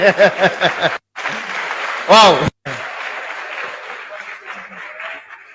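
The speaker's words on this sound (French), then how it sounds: "Est-ce qu'on peut applaudir pour lui?" Audience at a speech in Burkina Faso applauds in a clear, sustained burst amid cheering, with a speaker talking before and after.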